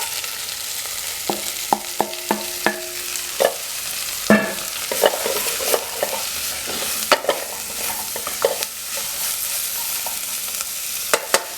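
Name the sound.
spinach being sautéed in a pan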